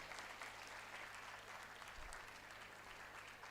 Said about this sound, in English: Big round of applause who have judged you.